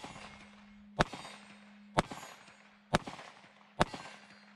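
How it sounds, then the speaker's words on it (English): Four loud, sharp shots from a Taurus 605 .357 Magnum snub-nose revolver with a 2-inch barrel, fired one-handed, spaced about a second apart at close range, each followed by a short echoing tail. "I gotta show you guys at least shooting it one-handed"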